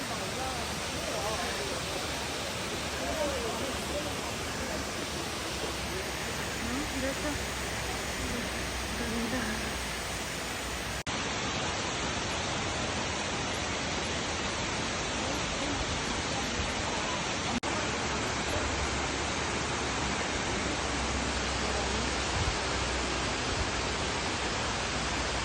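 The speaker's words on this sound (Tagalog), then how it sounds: "Ayan guys yung falls." Bridal Veil Falls waterfall gives a continuous, even roar of falling water with no pauses, with people talking faintly over it.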